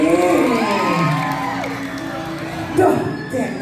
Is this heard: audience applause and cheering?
yes